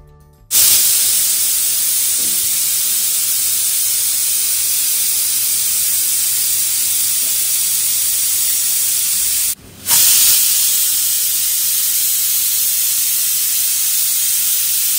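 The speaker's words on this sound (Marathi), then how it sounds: "मीडियम फ्लेमवर 3 ते 4 शिट्ट्या होईपर्यंत पोपटीला शिजवून घ्यायचं आहे" A pressure cooker on medium flame lets out a loud, steady high-pitched steam hiss that runs continuously, breaks off briefly near the end, then resumes just as strongly.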